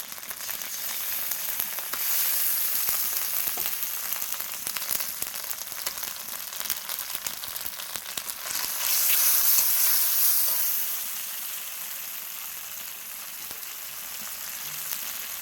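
Spice paste, chopped tomato and poppy seed frying in hot oil in a pan, a steady loud sizzle and hiss that swells into a sharper crackle midway, then settles to a softer frying hiss.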